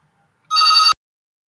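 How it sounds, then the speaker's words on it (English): A single short burst of a phone ringtone going off during a lecture, a bright electronic warble lasting under half a second, loud and alone against silence. "phone calls keep coming and I can't help it"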